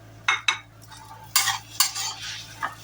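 Spiced potatoes with turmeric, salt, chaat masala and coriander get stirred and roasted in a pan: a few sharp scraping clatters of the spoon against metal, spaced irregularly over a quiet background.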